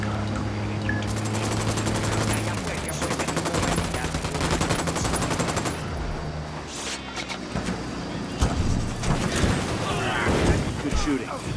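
Gunfire in Ghost Recon Wildlands: dense bursts of automatic rifle and machine-gun shots, loud and close, with scattered single shots and a few heavier booms, mixed with shouted voices and game sounds.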